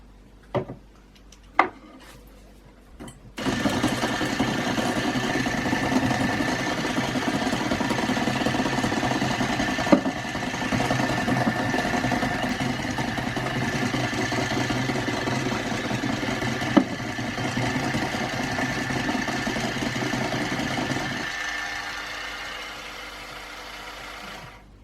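An electric mixer whirs steadily for about twenty seconds, beating cupcake batter as flour is added a little at a time. A few clicks and knocks come before it starts, and it stops abruptly near the end.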